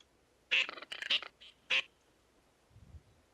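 Ducks quack in theHunter: Call of the Wild at Parque Fernando, a quick cluster of loud, raspy calls followed by one more squawk and a faint low call, then quiet.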